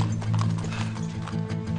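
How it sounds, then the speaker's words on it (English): A horse ridden off at speed to leave town, its hoofbeats clip-clopping in a steady, close, loud rhythm over a low rumbling background. "Lorenzo quickly rides off on a horse to leave town"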